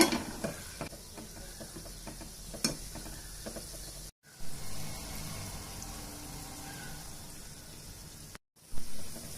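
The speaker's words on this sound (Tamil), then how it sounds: "எல்லா பக்கமும் ஈவனாக ஃப்ரை ஆகிற அளவு இதை கொஞ்சம் நீங்கள் திருப்பி விட்டுக்கோங்க" Gulab jamun fry in hot oil and are turned now and then, giving a steady soft sizzle and bubbling with occasional stirring scrapes and brief pauses.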